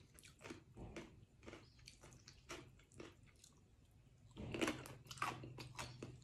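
Crunchy chewing of spicy Isan-style papaya salad with fresh raw shrimp and small tomatoes, heard close up as a string of wet, crisp bites with louder crunching near the end, no talk.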